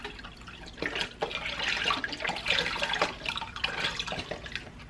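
Chicken stock pours steadily into a soup pot, splashing and gurgling for several seconds with brief pauses.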